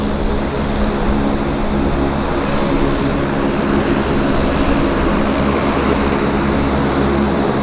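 A WestJet airliner takes off at Vancouver airport, its engines roaring in a loud, continuous broadband rush that stays steady and powerful throughout.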